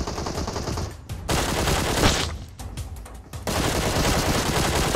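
Rapid automatic gunfire in a shooting video game, loud sustained bursts of firing broken by a few short pauses, close and dense.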